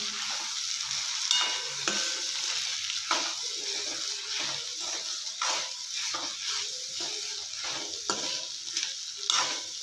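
Chopped onions fry in oil for an onion palya while a spoon stirs them, giving a steady close sizzle broken by repeated scraping strokes at a fairly even rhythm, with no talking.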